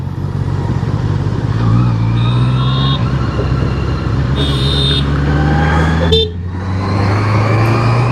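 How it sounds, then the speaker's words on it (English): A four-wheeled army truck drives past on a hill road, its engine a loud, steady drone that rises and fades, joined by a short horn toot and a brief whoosh as it passes close. "There's another army truck."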